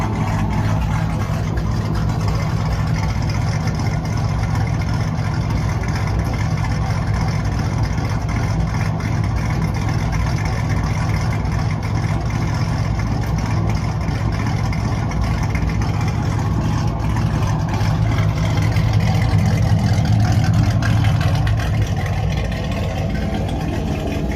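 A fifth-generation Chevrolet Camaro 2SS idles after startup with a steady, deep engine rumble that holds constant and loud throughout, with no voices.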